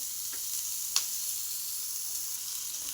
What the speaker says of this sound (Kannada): ಈ ಥರ ನೀಟಾಗಿ ಫ್ರೈ ಮಾಡ್ಕೋಬೇಕು ಮಸಾಲೆಗೆ ಜಾಸ್ತಿ ಏನು ಹಾಕೋ ಅವಶ್ಯಕತೆ ಇರಲ್ಲ ಈ ಥರ ಚೆನ್ನಾಗಿ ಫ್ರೈ ಆಗಲಿ